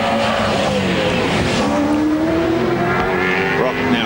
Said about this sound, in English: Brock now braking hard for Forest Elbow.